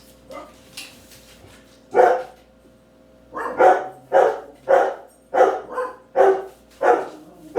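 Dogs barking in a home as an airplane passes overhead, a steady series of about nine loud close barks in a regular rhythm, no talk.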